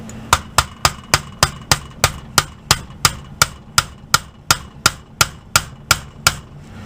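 A hammer taps a pin into an AR-15 trigger guard in a steady run of about twenty sharp metallic knocks, evenly spaced and close, with nothing else heard.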